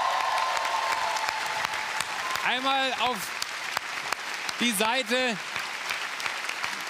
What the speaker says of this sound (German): Einen großen Applaus bitte für Sabine.